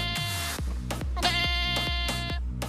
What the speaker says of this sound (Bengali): ছাগল না, আমার ফোনের রিংটোন।